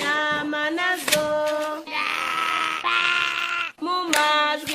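Sheep bleat close and loud, several wavering calls following one another with rougher, noisy bleats in between.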